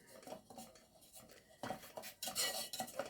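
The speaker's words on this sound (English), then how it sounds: "after the wax has dissolved, we put our paraffin oil. And then mix it together." Dissolved wax and paraffin oil being stirred together in a pot, utensil scraping and clinking against the sides in irregular bursts, growing louder toward the end.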